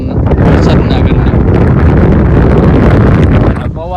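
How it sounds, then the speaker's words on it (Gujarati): Strong wind blasting straight into a phone microphone outdoors beside rain-swollen released floodwater, a loud continuous roaring rumble that overwhelms everything for about four seconds, then eases off. "પવન જો ફૂલ પવન આવી રહ્યો છે"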